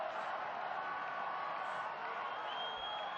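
A rugby stadium crowd at a Georgia versus Portugal match makes a broad, steady roar of cheering that holds evenly throughout, distant and diffuse.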